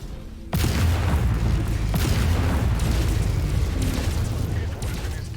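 A mech blows up in the video game MechWarrior 5 with a sudden heavy boom that gives way to a sustained roaring rumble and crackle, loud and dense throughout.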